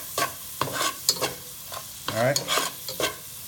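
Garlic, cayenne seasoning and butter simmering in a pan for seafood étouffée, heard as bursts of stirring and scraping over a low sizzle, close by, with someone speaking briefly between them.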